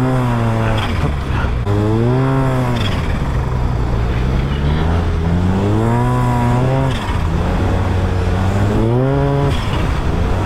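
Turbocharged Yamaha TMAX 530 scooter revving hard through repeated accelerations, its loud, close engine note climbing in pitch several times with brief dips between pulls, no talk over it.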